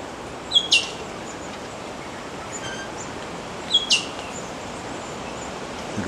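Wild birds in the Australian bush give two short, high chirping calls a few seconds apart, moderately near, over a soft, steady hiss of outdoor ambience.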